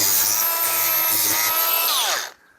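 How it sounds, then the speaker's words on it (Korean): An angle grinder cuts through a wrongly driven nail in construction work, a loud, continuous high-pitched whine and grind that stops and spins down sharply near the end. "이렇게 그라인더로 잘라줍니다"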